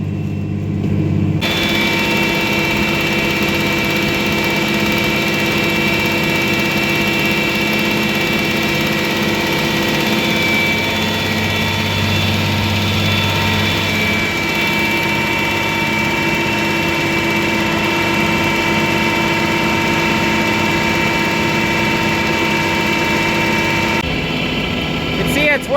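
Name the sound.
tractor engine running, stirring manure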